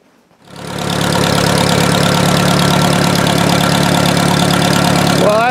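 A boat motor just filled with fresh oil starts up after a short quiet moment and runs steadily at idle, a loud, close, continuous engine drone with a faint knocking edge and no talk over it.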